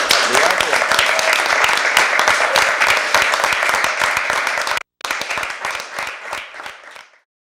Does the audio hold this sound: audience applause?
yes